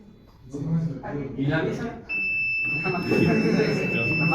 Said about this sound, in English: If we open the door and something enters to the house, we can see that it's gonna sound, and the LED is gonna be turned on.